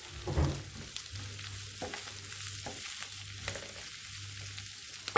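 Chicken sautéing with salt and spices in oil, a moderate steady sizzle broken by several stirring scrapes and clicks, close by with no talking.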